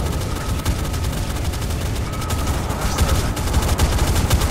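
Anti-aircraft guns in a naval combat game fire on incoming aircraft in a loud, sustained barrage of rapid overlapping shots over a heavy booming rumble, with no voices over it.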